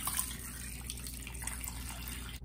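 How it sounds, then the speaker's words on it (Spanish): Water pours steadily into a pot over raw chicken breasts with salt and a piece of onion, a continuous close splashing and trickling with no talk. "voy a cubrir con agua"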